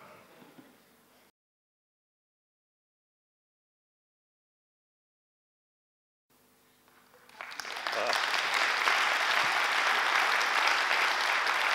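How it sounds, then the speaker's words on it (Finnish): A studio audience at a television talk show claps after a few seconds of near silence. The applause swells quickly into a steady, sustained patter of many hands that continues to the end. "Hitaat aplodit on parempi kuin ei aplodita ollenkaan."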